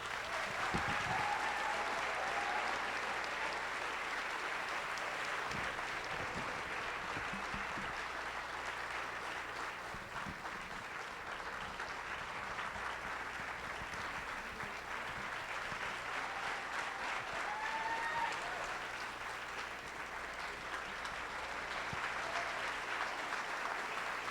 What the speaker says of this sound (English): For his tremendous effort and achievements, we applaud our junior sportsman 2017-18, Troy Llanos.